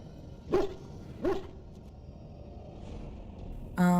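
Dog in the Dragon Age Origins game giving two short barks a moment apart, fairly close and moderately loud over low game ambience, with a brief synthetic interface tone at the end.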